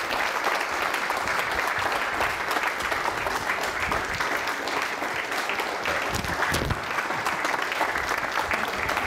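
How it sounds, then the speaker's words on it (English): Sustained audience applause fills a hall after an inaugural university lecture, dense steady clapping from many hands lasting several seconds, close and loud with no talk over it. "would you join me in applauding what was a fantastic lecture?"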